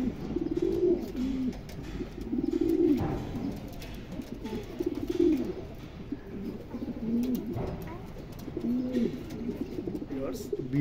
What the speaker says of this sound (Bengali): ভিডিওতে আজকে এক পেয়ার কবুতর দেখাবো